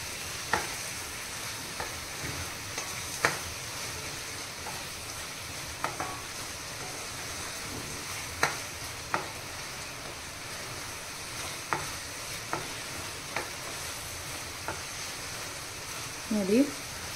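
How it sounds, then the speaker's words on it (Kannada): Carrot halwa with ghee-fried cashews being stirred in a pan, a soft continuous sizzle broken by scattered scrapes and taps of the spoon against the pan, with a few louder clatters near the end. "ಇದನ್ನಿವಾಗ ಚೆನ್ನಾಗಿ ಮಿಕ್ಸ್ ಮಾಡಿಕೊಂಡ್ರೆ ಆಯಿತು"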